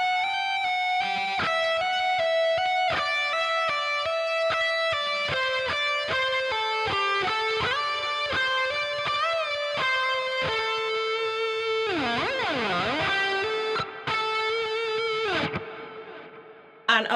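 Slow electric guitar solo from a rock song, a steady run of sustained, distorted notes with heavy vibrato and swooping bends near the end, played alone and loud.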